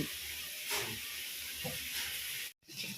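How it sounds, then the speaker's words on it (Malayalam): Steady hissing sizzle of chicken frying in hot oil, continuous and fairly loud, with a brief dropout near the end. "ഞാൻ വറുക്കാൻ വെച്ചിട്ടുണ്ട് കേട്ടോ ചിക്കൻ വറുക്കാൻ"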